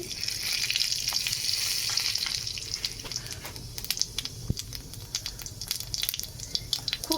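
Crushed cumin seeds sizzling in a little hot white oil in a wok, a bright steady hiss up close, then scattered scraping stirs as it continues.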